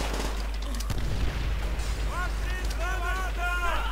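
Grenade explosions and gunfire in Call of Duty: World at War, a couple of sharp blasts amid steady combat noise, with someone talking over the action.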